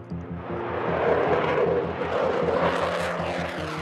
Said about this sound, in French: le craquement assourdissant de ses réacteurs